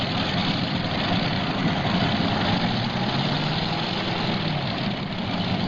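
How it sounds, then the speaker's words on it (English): A modified pulling tractor powered by a 72 cubic inch Rodeck engine drones at a loud, steady, unbroken pitch at a 1995 NTPA pull in Fort Recovery, with no change in tone throughout. "72 cubic inch Road Aries powering this modified tractor."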